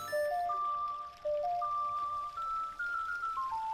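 Song of Storms melody from the video game Zelda: Ocarina of Time 3D, a bright plucked tune of clear stepping notes played alone with no rain noise, steady and moderately loud.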